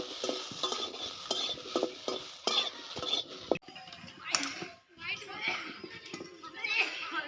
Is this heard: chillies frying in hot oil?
yes